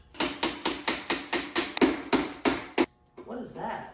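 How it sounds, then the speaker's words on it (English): A hammer strikes a Harley motorcycle wheel in a steady series of about ten sharp, ringing metal whacks, close and loud, followed by brief rustling. "I just whack it with a hammer and it's gonna fall"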